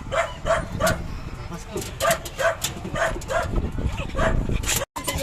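A dog barks repeatedly in short, rhythmic bursts, fairly close, with some yipping mixed in.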